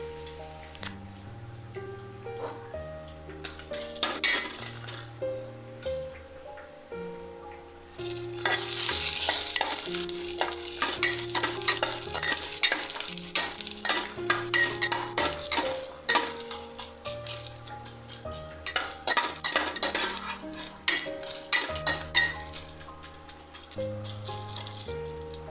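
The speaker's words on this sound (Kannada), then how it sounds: "ಅದನ್ನೀಗ ನಾವು ಬಿಸಿ ಮಾಡುವ. ಮೆಣಸು ಮಾತ್ರ ಬಿಸಿ ಮಾಡೋದು," Long chillies and short chillies heated on their own in a pan for a village-style drumstick dish. Frying sizzle runs throughout, loudest midway, with repeated scraping stirs and light clinks of a utensil against the pan.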